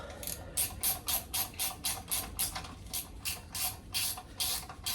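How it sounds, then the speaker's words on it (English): A ratchet spanner turns during an axle rebuild on a 212bhp Mk2 Escort RS2000, giving close, rapid bursts of clicking in a steady back-and-forth rhythm with no talk. "I absolutely love ratchet spanners."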